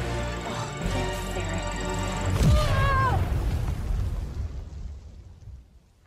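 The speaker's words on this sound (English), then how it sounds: "The explosion effects don't look great" An explosion goes off in the Star Wars Outlaws video game, a deep booming blast that cuts through a sustained musical score and rumbles away into a fading tail.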